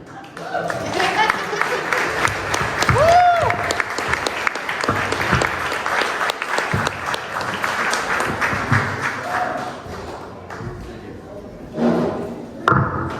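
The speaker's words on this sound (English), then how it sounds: "you guys have been great. Good night" Applause and cheering from a comedy-club crowd at the end of a stand-up set, dense clapping that rises and holds for several seconds, then thins and fades with a few scattered claps and voices.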